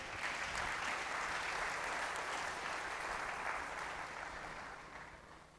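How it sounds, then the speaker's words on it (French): A Pentecost church congregation breaks into sustained applause, thick and even clapping that holds for several seconds before slowly fading. "Acclamons pour la parole de Dieu."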